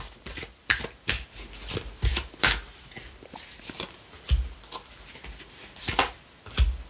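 Playing cards being shuffled and drawn during a card reading, a series of soft close riffles, slaps and rustles in irregular bursts, with no talking.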